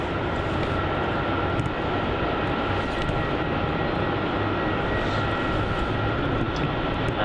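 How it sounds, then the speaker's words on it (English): A Qantas Airbus A330-200 makes a heavy takeoff on runway 16 at Melbourne Airport, a loud, steady engine roar that holds throughout without breaks. "we're going to get a heavy takeoff on runway 16, which will be awesome. It's going to be that Qantas A330-200"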